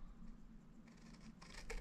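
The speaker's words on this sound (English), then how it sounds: "And then I'm just going to use my scissors" Scissors snip through a sheet of paper laid on a small crafting mat, trimming it for a glue-free paper box. The cuts are faint, quiet and close, with a couple of brief snips toward the end.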